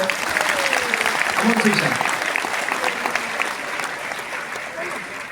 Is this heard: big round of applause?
yes